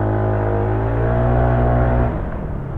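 A stock 59 motorcycle engine with its stock pipe revs hard nearby, holding a high, buzzing rev with strong harmonics before the pitch and loudness drop as the throttle eases off.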